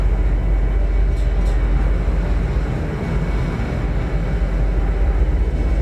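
Train moving in Star Citizen, a loud steady low rumble with continuous rolling noise that holds even throughout, no talking.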